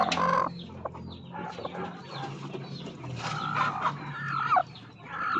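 Hens cluck near newly hatched chicks in a poultry setting, with soft chick peeps scattered among the clucks at close range, all fairly quiet.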